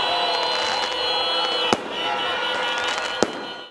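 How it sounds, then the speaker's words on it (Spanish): Fireworks at night during a student gathering crackle and fizz continuously in the distance, punctuated by two sharp loud bangs, while a voice talks over the noise. "En la noche hubo fuegos pirotécnicos."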